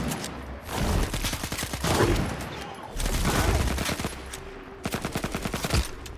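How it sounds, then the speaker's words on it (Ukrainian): Rapid bursts of gunfire from the shooter game S.T.A.L.K.E.R. 2 crackle in loud, clustered volleys with short pauses between them, ending in a string of sharp single shots. "Та не стріляй по мені, ти заїбав."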